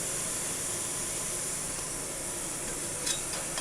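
Water boiling steadily in an idli steamer pot, a constant close hissing, bubbling rush with a brief louder burst of steam near the end; no voices.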